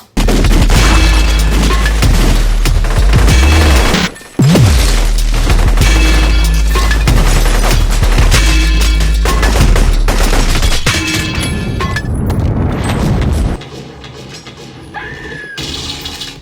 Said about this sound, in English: for this scene, I wanted the guns to stick out, the shooting